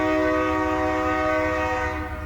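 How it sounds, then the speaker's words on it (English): A freight train of tanker and hopper cars with foreign power passes a grade crossing on Broadwell Avenue in Grand Island, Nebraska, its horn sounding as a loud, sustained multi-tone chord over a rumbling low undertone, briefly and close. "I caught this tanker and hopper train with foreign power, knocking down the signals."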